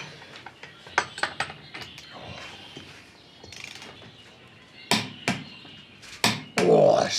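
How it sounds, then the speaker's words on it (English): A torque wrench tightening a nut to 85 foot-pounds during ancillary work on a Series 1 Land Rover restoration, giving a few sharp metallic clicks and clanks close by, with scattered handling knocks between them. "I really want to use my torque wrench."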